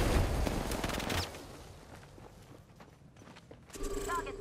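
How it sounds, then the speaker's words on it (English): Gunfire from an Apex Legends match, with dense rapid bursts of automatic shots opening the clip, then thinning into scattered clatter and game effects while a voice speaks. "Enemy there. We're shooting."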